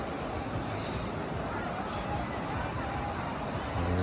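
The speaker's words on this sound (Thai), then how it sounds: "มาถึงแล้วน้ำตกตายาย มีน้ำน้ำไหลแรงเลย" Water pours strongly over Ta Yai waterfall in Nakhon Nayok in a loud, constant broadband roar that holds steady throughout and is heard alone, without talk.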